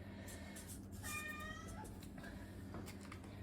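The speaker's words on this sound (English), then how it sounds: "excuse the cat in the background." A domestic cat meows in the background of an indoor kitchen scene where red wine vinegar is being made, a few drawn-out calls rising over a steady low hum.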